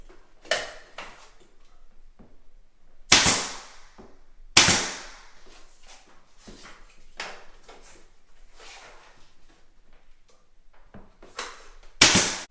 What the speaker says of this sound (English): You need a pin nailer, and you also need of course, your trim gun.